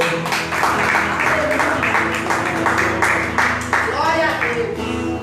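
A church congregation at a Brazilian Friday service claps in a steady rhythm, the regular beat running under singing and loud voices throughout.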